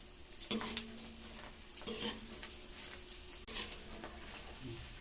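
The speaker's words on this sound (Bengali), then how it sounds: "দেখো পাঁপড় ভাজছে কেমন, দেখো।" Papad frying in a pan at home produces a soft sizzle with a few sharp clinks and scrapes of utensils, fairly quiet and without voices.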